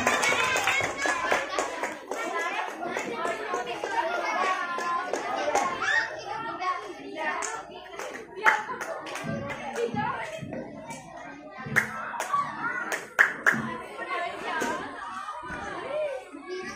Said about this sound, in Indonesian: beri tepuk tangan yang meriah untuk peserta nomor 14 bernama Dinda